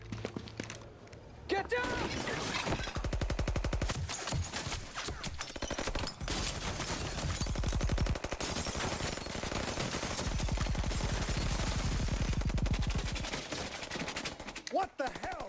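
Mafiosi open fire in Mafia: Definitive Edition, bursts of rapid gunfire rattling in long volleys with short gaps, loud and dense over most of the stretch, while a voice talks in the background.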